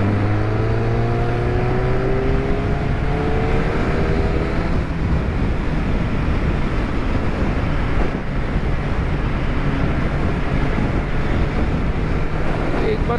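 An MV Agusta 1090 Brutale RR inline-four on its stock exhaust cruises smoothly, a steady engine drone buried under loud, constant wind rush, with a brief rising engine tone early on.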